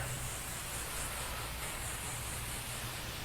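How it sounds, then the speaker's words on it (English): Light, gentle spray of water from a garden hose drizzling over newly laid pavers, a steady soft hiss without a break, close and even. "A little drizzle. like spraying it, okay? Like this."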